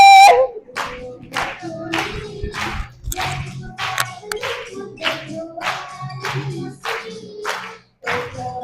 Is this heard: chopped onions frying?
no